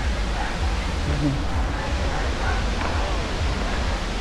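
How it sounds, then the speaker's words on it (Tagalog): Steady broadband roar of Bulinaw Falls, a waterfall heard up close as constant rushing water that fills the whole stretch without pause or change in loudness. "narinig na namin yung tunog o yung ugong ng falls"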